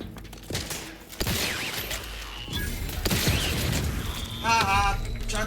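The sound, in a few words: grenade explosion in video game The Outer Worlds 2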